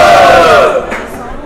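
Crowd at a Brazilian street rap battle, Batalha da Leste, erupts in loud cheering and shouting, a dense roar with rising yells that swells briefly and then eases off.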